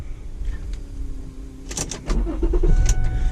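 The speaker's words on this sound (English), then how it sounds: "Gonna start it up." A 2007 Lincoln MKX starts up from inside the cabin: a brief whir of the starter, then the engine catches and settles into a steady low idle, close and moderately loud with no voices.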